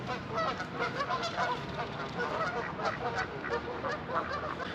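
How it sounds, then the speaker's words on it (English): Geese and ducks honk and quack by the water in a continuous, overlapping flock chorus. The calls are moderately close and carry on steadily. "There's a bunch of ducks and geese over here."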